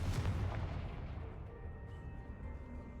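Confringo fire spell blast in the Hogwarts Legacy video game, a single heavy booming burst at the start that rolls away into a fading rumble, loud and close with no talk.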